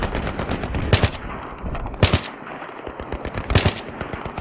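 Bursts of machine-gun covering fire in the Battlefield 3 campaign, three sharp loud volleys about a second apart over a dense rumbling battle background, with no speech.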